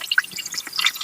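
Water dripping and trickling out of an upturned Oppo F33 Pro phone after a waterproofing test, a quick run of small close drips and splashes over one second.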